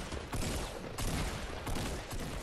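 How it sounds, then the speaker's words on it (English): Several Fortnite players open fire together, producing a dense, loud volley of overlapping gunshots in rapid bursts that keeps going for the whole stretch. "Alright, on three, we're gonna shoot."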